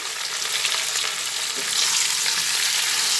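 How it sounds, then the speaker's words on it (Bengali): Pointed gourd and potato pieces fry in hot oil in a pan, giving a steady bright sizzle throughout that swells slightly toward the end, with occasional soft stirring scrapes and no talking. "আলু আর পটল একসঙ্গে ভেজে নিচ্ছি"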